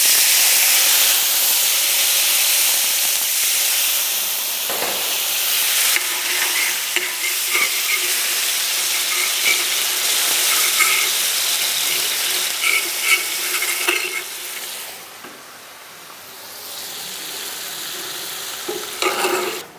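Water hits a hot pan holding cream and bursts into a loud, dense sizzle with hissing steam. The sizzle carries on for the whole stretch, with stirring scrapes, then briefly dips and returns near the end.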